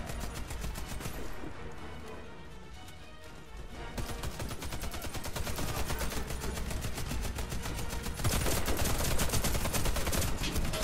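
Rapid automatic gunfire in the shooter Warface, dense bursts of shots crackling almost without pause, easing briefly then returning louder and heavier in the final seconds.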